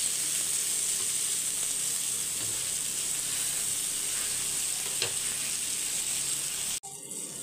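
Seer fish fries in a little oil in a clay pot, giving a loud, steady close-up sizzle that runs unbroken before cutting off abruptly near the end.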